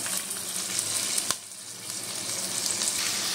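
Large prawns sizzle steadily in hot oil in a pan while being fried for a bottle gourd and prawn curry, a dense continuous hiss with no talking.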